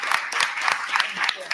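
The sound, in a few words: audience applause for the village employees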